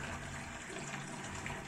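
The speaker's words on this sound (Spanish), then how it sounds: "Del baño viene todo el agua limpia al balde que usaré para reposición de mi nueva agua." Clean water from a bathroom pours steadily into a bucket for an aquarium water change, a continuous moderate rushing splash with no pauses or voices.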